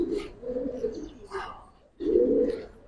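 Giribaz pigeons coo in low rolling bursts at a pigeon sale, close and moderately loud, with a pause before a stronger final coo.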